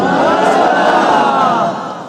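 A large religious gathering chanting slogans together, a loud massed roar of voices held for about two seconds before tapering off slightly.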